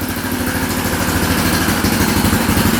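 An ATV engine idles steadily at close range after its carburetor repair, an aftermarket carb that had run lean and overheated, giving a loud, even mechanical chug with a faint clatter and no talking.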